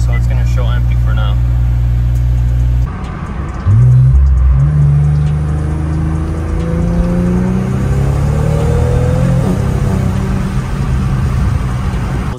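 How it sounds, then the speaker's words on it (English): A car with a VR30 engine, just fitted with a Spool Stage 3 dual fuel pump, turns over and starts, then settles into a steady idle rumble with a slight rise in pitch, heard up close. "you turn on the car"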